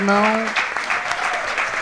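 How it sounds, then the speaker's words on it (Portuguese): A voice speaks briefly before a crowd bursts into applause at the opening of a ten-year anniversary event for a Brazilian observatory, the clapping loud, close and continuous. "pedir uma salva de palmas para o Fernando"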